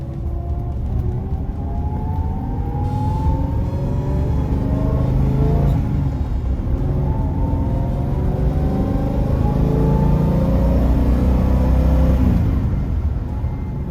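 Original 1969 Plymouth GTX with 42,000 miles driving along, its engine humming and rumbling steadily as revs rise and fall through repeated accelerations, close and loud with no talk.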